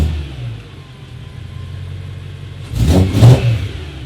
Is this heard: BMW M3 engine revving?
yes